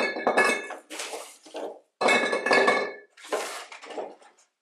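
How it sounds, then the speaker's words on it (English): Golf balls are dropped one after another into a glass in a kitchen, giving bright clinks and rattles in bursts with short pauses, close and loud. "golf balls in my kitchen, which I'm going to put into this glass"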